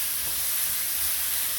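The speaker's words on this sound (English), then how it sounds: "You want to saute these down till the onions start to caramelize, as well as the rest of the vegetables" Onions and other vegetables sautéing in a pan, a steady broad sizzling hiss that holds even and loud throughout without breaks, heard alone with no voices.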